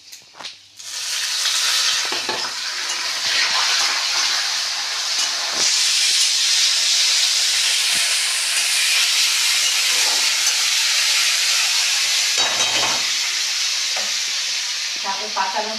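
A bay leaf and panch phoron spices sizzle in hot oil, a loud close hiss that swells after a quiet start and keeps up steadily, broken by occasional stirring scrapes and clinks.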